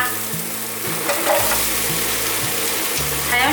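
Bitter melon, carrot strips and white mushrooms are stir-fried in a wok with a little water, a steady loud sizzle broken by rhythmic scraping and clattering tosses of a spatula, no voices.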